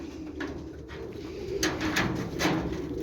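Pigeons sitting in an aviary give soft, repeated cooing calls at close range, with a few louder coos standing out over a steady low background hum.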